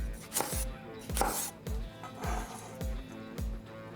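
A knife chops through a chili on a cutting board at an angle, eight evenly spaced thuds about half a second apart, close and crisp with no talking.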